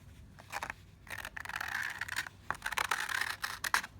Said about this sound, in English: Shave paper out of the box.